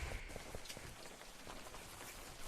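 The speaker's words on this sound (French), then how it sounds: "Si, ça pleut à l'intérieur." Steady rain patters down inside a building in the survival game Unturned, a dense continuous hiss with scattered drop taps that stays fairly even and close throughout.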